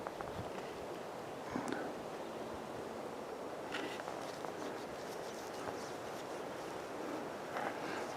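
Wind blows steadily outdoors in the North Absaroka Wilderness as weather moves in, a constant broadband rush with faint scattered knocks and rustles.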